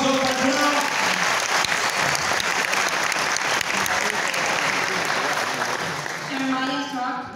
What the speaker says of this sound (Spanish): ¡Aplausos para el jurado!